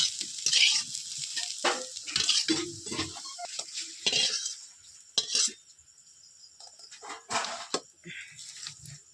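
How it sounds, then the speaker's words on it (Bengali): Potatoes frying in mustard oil in a Bengali village kitchen, heard as a close soft sizzle broken by scraping stir strokes and utensil knocks, with quieter gaps between bursts and no talk. "আমার আলু ভাজা হয়ে গিয়েছে, এবার আমি আলুগুলোকে তুলে নেব"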